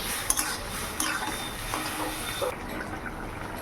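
Metal utensil scraping and clinking against a cooking pot as papaya shukto, a Bengali vegetable dish made without turmeric and finished with a little sugar, is stirred; a few soft clatters over a faint background hiss.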